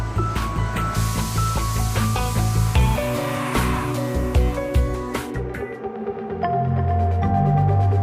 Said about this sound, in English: Air jets and emu feathers ensure that not a speck of dust remains on the surface.